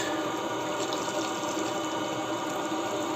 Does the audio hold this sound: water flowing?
yes